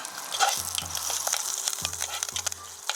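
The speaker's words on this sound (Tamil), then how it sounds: "நான் கொஞ்சம் தாளிக்கிறது வெங்காயம் போடுறேன், இந்த வாசனைக்காக" Onions crackle and sizzle in hot oil for tempering, with sharp irregular pops over a low background hum.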